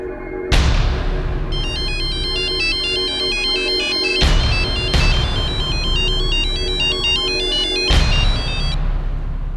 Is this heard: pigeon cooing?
no